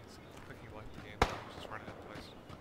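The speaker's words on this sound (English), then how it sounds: "Is that you shooting sniper?" A single sharp sniper rifle shot in PUBG rings out once from a distance, a brief crack with a short tail, heard under quiet ongoing voice chat.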